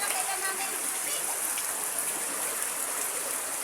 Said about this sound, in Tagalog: Ayan guys, dun oh, baha. Oh. Grabe ang anod.